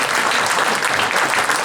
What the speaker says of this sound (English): another big round of applause for Carmel Honey